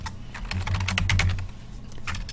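Rapid clattering keystrokes on a computer keyboard during an Oracle 19 database login, a dense burst of close taps followed by a brief pause and a few more presses.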